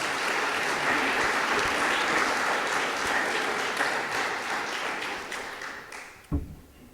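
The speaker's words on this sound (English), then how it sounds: "Let's give them a round of applause." A room full of people at a city's State of the City address applauds the fire department. The clapping is thick and sustained, then tapers off toward the end, with a single sharp knock just before it fades.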